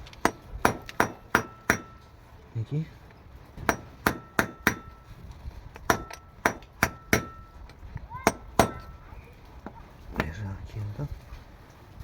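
Sharp, ringing metal-on-metal hammer blows drive a screwdriver against the rear hub bearing of a Daewoo Nexia. They come in quick bursts of two to five strikes with short pauses between, close and loud, with a brief spoken word in between.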